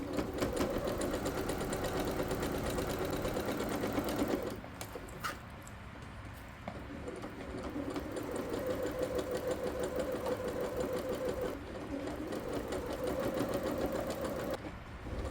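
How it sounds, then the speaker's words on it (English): Sewing machine stitches around the elastic waistband of pajama pants, a steady mechanical whirring and rapid needle chatter that runs loud and close for most of the stretch, pausing briefly before resuming. "I'm stitching all around the waist so that I don't missing any."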